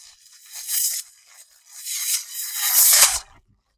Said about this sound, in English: That's page turn sound number 13.